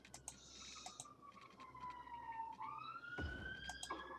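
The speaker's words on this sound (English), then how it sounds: "real life fire engine you can hear there, or ambulance possibly" A real fire engine or ambulance siren passing outside, faint and distant: a wailing tone that slowly falls and then sweeps back up, over low background hum and a few soft clicks.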